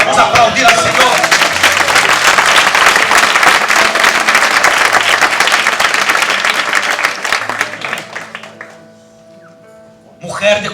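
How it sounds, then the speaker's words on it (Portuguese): Church congregation in a Portuguese and Spanish sermon bursting into loud, sustained applause mixed with cheering and music, fading after about eight seconds before the preacher speaks again. "Vamos aplaudir ao Senhor."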